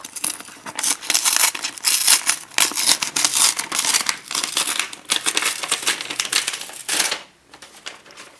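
Sustained crinkling and tearing of a very large brown paper envelope being opened, loud and close, in uneven bursts for several seconds before easing off near the end.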